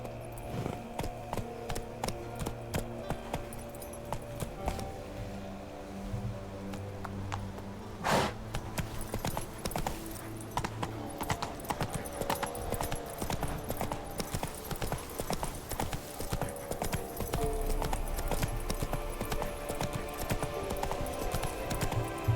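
Geralt's horse Roach galloping in The Witcher 3, rapid, continuous hoofbeats up close over layered game music, with a brief sharp accent midway.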